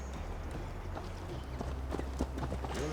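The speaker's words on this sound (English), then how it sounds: "Alright, they give me a horse." Horse hooves clip-clopping in a steady galloping rhythm in the video game Assassin's Creed Valhalla, moderately loud over low ambient background.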